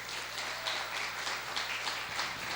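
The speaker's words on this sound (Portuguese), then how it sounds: "pode aplaudir o Senhor" A church congregation at a couples' gathering applauds in a steady, fairly soft wash of clapping that holds for a couple of seconds, with a low hum underneath and no speech over it.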